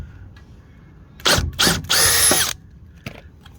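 A power drill backs a screw out of a small plastic bracket at the bottom of a glass sliding door, with two short whirring bursts followed by a longer run, close and loud, then quiet.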